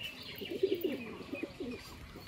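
A pair of pigeons coos in low, rounded notes that pulse steadily for a couple of seconds, fairly close, with faint chirps and a soft background hum.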